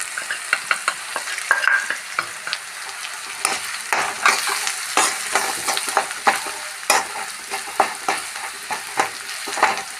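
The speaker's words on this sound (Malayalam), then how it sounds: "നന്നായിട്ട് ഫ്രൈ ആവട്ടെ." Jackfruit seeds fry in a pan with ginger, crushed fennel, turmeric, pepper and chilli flakes, giving a steady sizzle broken by repeated scraping stirs. Close and fairly loud, with no talking.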